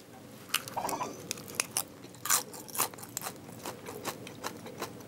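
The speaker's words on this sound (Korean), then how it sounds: "이 껍질 얼마나 바삭거리는지 제가 소리 한번 들려드리도록 하겠습니다" Crisp crunching bites and chewing of crispy roast suckling pig skin, close and quiet, a series of sharp brittle cracks spaced irregularly over several seconds.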